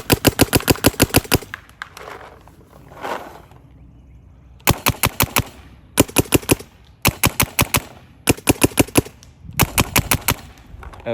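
Planet Eclipse Gtek 180R paintball marker firing repeated rapid strings of crisp, close shots in several bursts separated by brief pauses, a slightly softer pop than a mech-frame marker.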